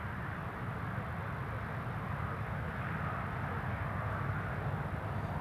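A TUI airliner on the move at Newcastle International Airport, a steady broad jet-engine roar heard from a distance, constant and unbroken throughout.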